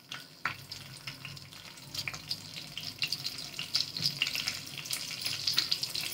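Bay leaf and half a spoon of cumin sizzle in hot oil in a pan on a gas stove for a Marathi dum aloo. The frying crackle is steady and close and grows denser toward the end, with a few sharp pops and no talk.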